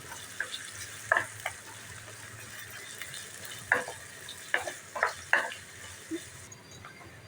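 Onion with asafoetida sautéing in a pan for a bitter gourd curry, a faint low sizzle under repeated scraping stir strokes and clinks of a spoon.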